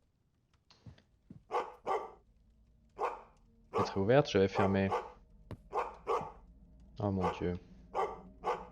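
A dog barks indoors at about 10:15 at night, with several short barks interspersed among close French conversation and exclamations.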